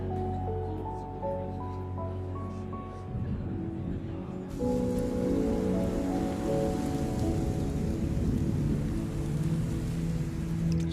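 Rain in a Bollywood romantic film scene falls as a steady broadband hiss that swells louder partway through, with low tonal sounds faintly underneath at the start.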